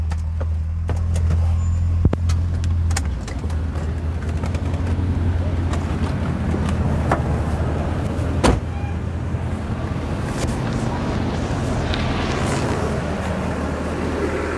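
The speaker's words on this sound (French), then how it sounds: "elle roule bien, elle roule bien la petite Corvette, elle a du punch" A small Corvette sports car driving, a steady loud road and engine rumble from inside the cabin with a deep low hum at the start, occasional thumps and clicks, and voices talking over it.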